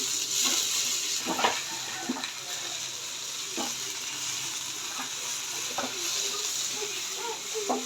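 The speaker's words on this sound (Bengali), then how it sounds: "সে এসে খুন্তি নাড়াইতেছে" Fish frying in a pan is stirred with a metal spatula: soft sizzling under intermittent scraping strokes against the pan, fairly quiet and close.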